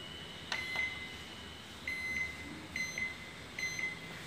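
An oven timer gives a sharp beep as it is set, then a series of thin electronic beeps in short pairs at steady intervals, faint over a low background hum.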